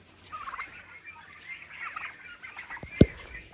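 Big farm turkeys gobble and call in a noisy jumble close by, with one sharp knock near the end.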